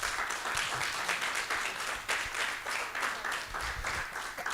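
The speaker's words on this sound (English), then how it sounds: "I want us to give a huge round of applause of acknowledgement to Faye" Steady applause from an audience at a national craft policy launch, a dense, continuous wash of clapping that holds for several seconds without breaks.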